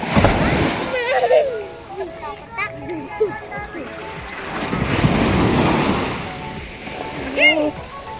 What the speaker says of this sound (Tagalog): pumapasok na sa cottage yung alon